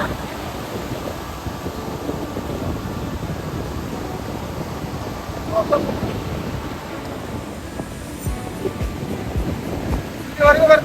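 Sea waves wash up the beach at Puri, a low continuous surging roar with swells rising and breaking nearby, under some background voices and wind.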